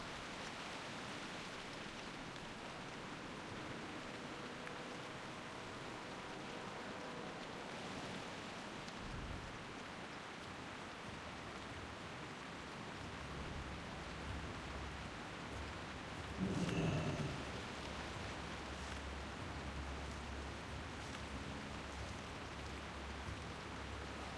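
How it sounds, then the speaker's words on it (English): Steady rain falls in World of Warcraft, a dense constant hiss throughout, with a single low thunder rumble rolling in about two-thirds of the way through. "it's the first time I'm actually listening to rain for real in World of Warcraft"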